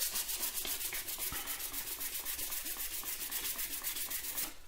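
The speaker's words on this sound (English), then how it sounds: "sanding it back" Fine sandpaper rubbed by hand over a plastic blaster shell, in quick, steady back-and-forth strokes close up, a rhythmic scratchy hiss that keeps an even pace before stopping abruptly.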